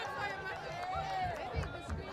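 Home crowd at a high school varsity football game (PSAL 4A, DeWitt Clinton vs John F. Kennedy) roaring after a goal line stand, a broad sustained cheer with chatter mixed in and a brief louder swell.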